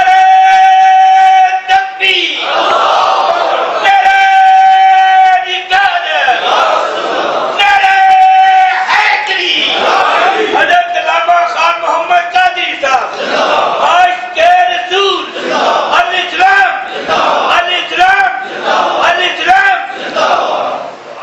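A large crowd at a religious gathering chants slogans in loud, rhythmic call-and-response bursts, a leader's voice alternating with massed shouting that repeats steadily and fills the space.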